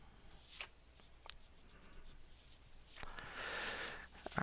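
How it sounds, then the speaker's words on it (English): An eraser rubs across a paper drawing during a technical drafting exercise, giving several short scrubbing strokes and then a longer stretch of steady rubbing, close and fairly quiet. "And now we erase."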